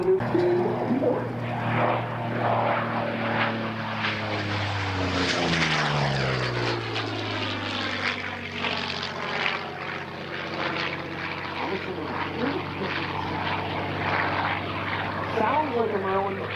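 P-40N Warhawk fighter's piston engine and propeller roar through a high-speed loop at an airshow, pitch sweeping down then rising as the plane passes, loud and continuous with a voice talking over it.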